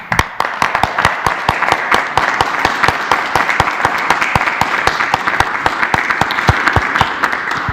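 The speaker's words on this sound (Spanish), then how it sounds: "yo les pediría a todos un aplauso para nuestro personal de salud" Audience applause for health personnel at a daily COVID-19 press conference, loud and sustained clapping with sharp distinct claps all the way through, crowd close by.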